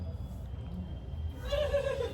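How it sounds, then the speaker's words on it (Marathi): A horse gives a short whinny in a village setting. The call is fairly faint and brief, rising near the end over a low background rumble. "बघितला कसा घोडा आहे"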